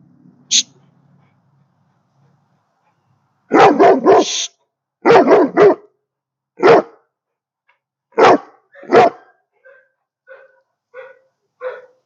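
A dog at an animal shelter in Magnolia, Texas barks in loud, close bursts, single and double woofs spaced a second or two apart, trailing into softer short yips near the end.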